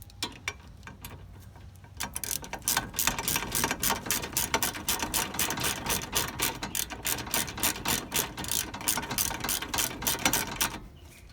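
A ratchet wrench clicks in a rapid, steady run while tightening rear brake caliper bolts on a 2005 Ford Escape Hybrid, close and loud for about nine seconds after a few quiet taps.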